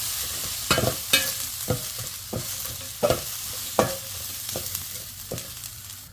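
Turmeric, chilli powder and garam masala are sautéed in a pan for a traditional Kerala dish. A spatula scrapes in repeated, fairly regular strokes over a low background sizzle, close and clear.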